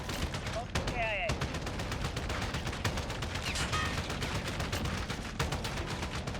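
Call of Duty Modern Warfare 2019 gunfire, rapid bursts of automatic shots crackling over a busy battle din, with a brief radio-style voice and sweeping effects early on, moderately loud.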